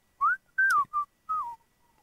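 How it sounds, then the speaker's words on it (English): One person whistles a short tune alone, a few clear, close melodic phrases separated by brief pauses. "For some reason, I didn't think you could whistle"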